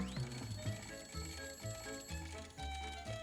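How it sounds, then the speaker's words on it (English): A little alarm clock rings in a bright, repeating pattern of chiming bursts roughly every half second, fairly soft and alone, with no voices. "So it rang the alarm anyway."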